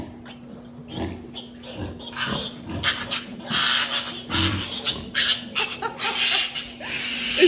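Piglets fighting and tussling in a farrowing pen, a close flurry of squeals, grunts and scuffling bursts of varying loudness over a steady background hum.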